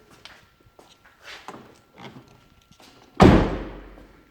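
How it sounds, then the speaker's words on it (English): A 2006 Duramax truck door slams shut with one loud, close thud near the end, after a few light clicks and shuffling sounds. "Shut the door here."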